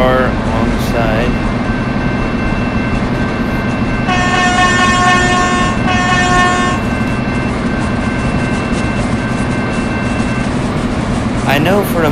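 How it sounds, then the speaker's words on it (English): A Virgin Pendolino Class 390 train in a train simulator game sounds its horn in loud sustained tonal blasts over a constant heavy rolling rumble, with a second shorter horn sound near the end. "the warning at a level crossing is two long blasts, one short blast, and one long blast"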